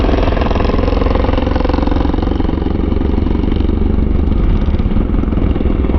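A Suzuki racing motorcycle runs on a track during a practice day, its engine producing a steady, loud, continuous drone that holds without break for the whole stretch, with no voices.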